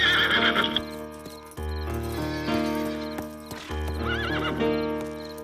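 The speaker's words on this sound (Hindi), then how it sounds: "जाओ मेरा घोड़ा लेकर आओ" A horse being led along, hooves clip-clopping steadily on hard ground while it neighs loudly several times, close and clear over a musical background.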